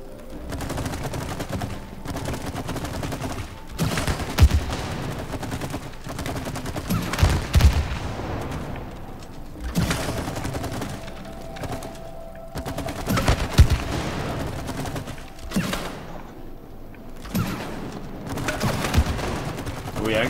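Rapid gunfire bursts at a shooting range in the video game It Takes Two, repeated shots and volleys running throughout over a busy game soundtrack, with occasional louder impacts.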